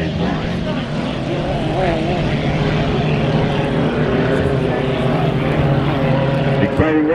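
2.5 liter stock class hydroplane race boats roaring continuously at a Clarksville race, a loud droning engine whine with shifting pitch, while an announcer talks over it.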